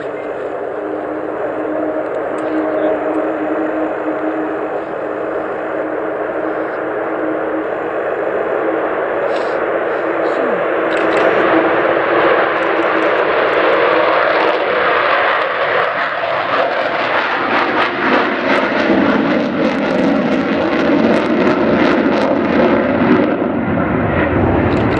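Avro Vulcan XH558 jet bomber at the RIAT 2015 air show, a sustained loud jet roar that swells as it takes off and passes across the far side of the airfield, with broad rumbling noise throughout.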